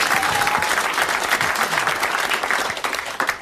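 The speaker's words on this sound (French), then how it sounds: "vous allez applaudir Monsieur Le Pin de Quimper" A studio audience on a 1982 French television show applauds a guest, Monsieur Le Pin from Quimper, with loud, sustained clapping that begins to thin out toward the end.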